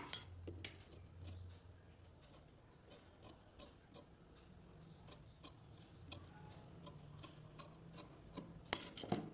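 Scissors snip through fabric during a basic sewing lesson, giving faint, sharp clicks in an uneven steady rhythm against a quiet background.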